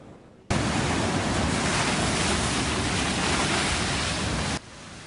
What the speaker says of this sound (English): And more impressive and dangerous waves today along California's central coast.